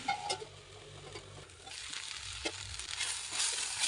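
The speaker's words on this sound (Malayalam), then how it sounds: "ഇതെല്ലാം ഒന്ന് നല്ലവണ്ണം ഇളക്കി കൊടുക്കാം" Brinjal (eggplant) stir-fry being stirred in a hot pan, with a steady close sizzle and frying hiss broken by a few scraping stirs of the spoon, no voices.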